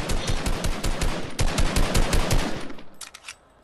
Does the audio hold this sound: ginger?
no